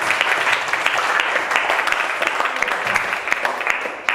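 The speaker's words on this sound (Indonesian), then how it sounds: "beri aplaus kepada kelompok 2" An audience at a training session claps for a presenting group, dense continuous applause of many hands filling the room at a steady level for several seconds.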